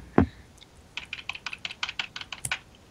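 Arrow keys on a computer keyboard tapped during Animal Jam gameplay: one sharp thump, then a quick irregular run of about a dozen close, crisp clicks, with no talk over them.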